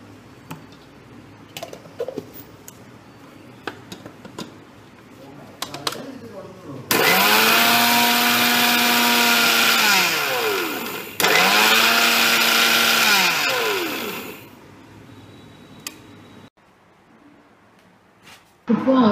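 A mixer grinder whirs loudly in two short bursts of a few seconds each as it grinds rice flakes into powder for puttu, the motor pitch sagging under load, with quiet talk and clicks before and after.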